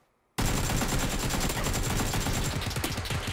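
A video-game AK rifle fires in sustained automatic bursts, a loud rapid rattling stream of shots that starts abruptly after a brief silence and continues without pause.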